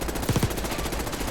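A KSV gun fires a quick burst of about three close, punchy shots on a video game shooting range, over a steady background hum.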